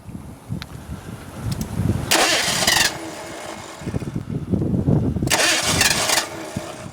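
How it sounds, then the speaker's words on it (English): A 1986 Ford Mustang 5.0 convertible with a rotted body cranks and turns over twice, and between the starts its engine runs with a rough, uneven idle, close and loud. "Give it enough gas to keep it running."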